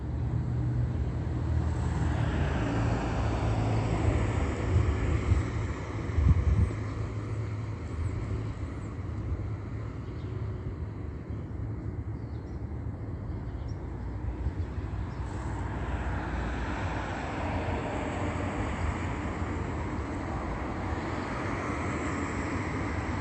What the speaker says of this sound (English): you're listening to this amplified sound of a train